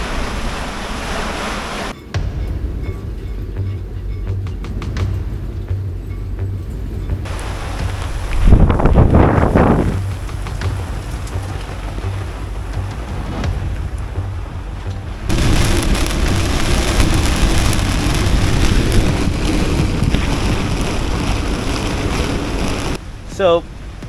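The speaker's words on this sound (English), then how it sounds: "Consistent 30-knot winds all week long. Rain constantly." Moored sailboat on a mooring ball in a December tropical storm with 30-knot winds and constant rain, gusting wind roar and rushing water rising and falling, with a person speaking over parts of it.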